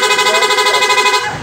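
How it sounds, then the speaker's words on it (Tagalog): A loud, steady dual-tone horn on a Honda ADV 160 motorcycle blares continuously for over a second with a fast pulsing warble, then cuts off abruptly. "dual horn setup mode para sa loud"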